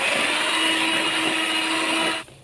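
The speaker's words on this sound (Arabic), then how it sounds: "بعد كده بقى هضرب البيض والسكر" An electric hand mixer beats eggs with sugar, vanilla and vinegar for carrot cake batter, a steady loud whirring drone that holds for about two seconds and then cuts off abruptly, with no voices.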